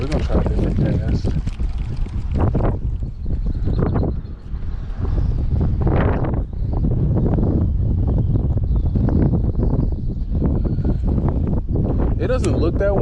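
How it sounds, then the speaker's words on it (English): Strong, gusty wind buffets the microphone while fishing from a boat off Harsens Island, Michigan, a loud continuous roar with surging gusts and faint water sounds underneath. "It doesn't look that windy, but it's like crazy windy today."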